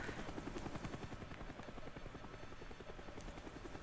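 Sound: helicopter flying overhead in Call of Duty Black Ops video game

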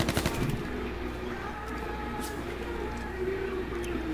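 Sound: gunfire in H1Z1 video game

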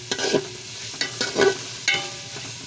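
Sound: washed rice frying in butter with carrots

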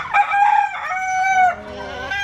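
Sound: rooster crowing

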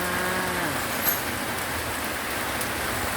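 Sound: rain falling

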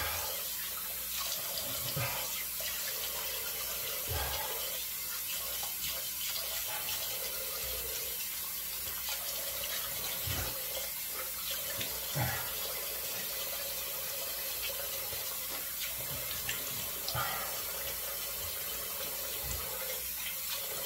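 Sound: tap water running while rinsing a razor

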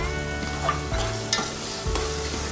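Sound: yogurt added and stirred into sizzling paneer biryani gravy

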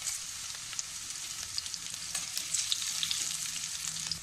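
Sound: curry leaves sizzling in hot oil

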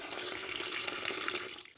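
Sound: water flowing from an opened valve of a homemade 12V water heater

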